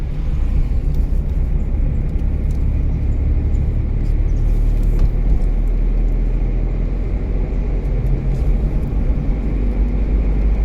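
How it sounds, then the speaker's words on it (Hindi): A car's engine hums and rumbles steadily from inside the cabin during a driving lesson in Solan, a low continuous drone with mild swells as the clutch is raised and throttle applied, with no talk heard. "उठाओ क्लच को, रेस दो, रेस दो"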